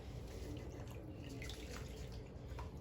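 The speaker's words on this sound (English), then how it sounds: "And I pour the water over." Water is poured over a hedgehog during a bath, a quiet steady trickle and splash with small drips, close by and faint, running without pause through the short stretch.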